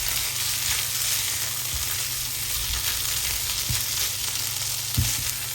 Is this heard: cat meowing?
no